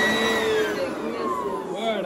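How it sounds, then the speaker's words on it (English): A vacuum cleaner runs steadily indoors, its motor whine sliding gradually in pitch, heard up close for a couple of seconds with a faint voice in the background. "Oh, vacuum cleaner."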